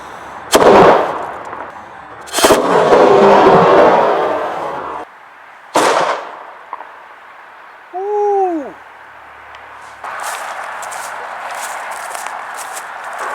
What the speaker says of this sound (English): going to shoot a can out of this thing and see how far it goes